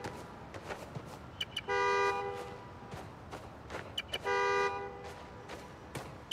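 Car horn honking in Marvel's Spider-Man: Miles Morales as a remote locates the car: two sustained honks, each about half a second, with clicks and ambient city noise between them.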